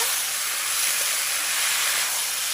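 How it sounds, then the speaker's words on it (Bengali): Spiced masala sizzling as it is sautéed in oil with onion greens and peas for a katla fish curry, a steady close hiss with no voices over it. "সব কিছু ভালোভাবে কষিয়ে নেব"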